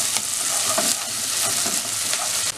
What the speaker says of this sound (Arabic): وهنقلب كويس